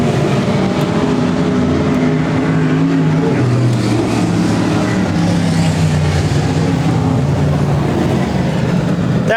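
V8 dirt modified race cars roaring around a dirt track, a loud continuous engine drone with shifting pitch as the cars pass, heard without talk.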